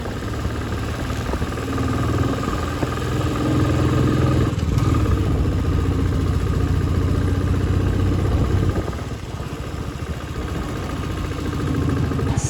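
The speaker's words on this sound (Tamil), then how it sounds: "சரியான மேடுங்க இது, வண்டி ரொம்ப தடுமாறுது இந்த மேட்டில்." A motorcycle engine labours up a steep hill road near Yercaud, a loud, steady close-up drone with clattering mechanical noise, dipping briefly near the end before rising again.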